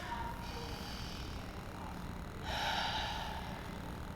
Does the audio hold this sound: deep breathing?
yes